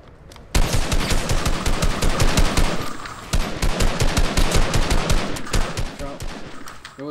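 Rapid bursts of automatic gunfire in a Fortnite match, loud and close, one short burst followed by sustained rattling strings of shots with a brief pause midway.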